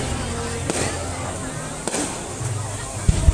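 New Year 2020 fireworks in Yen Phong, Bac Ninh, heard as a continuous loud crackling rumble with a few sharp distant bangs, while people talk nearby.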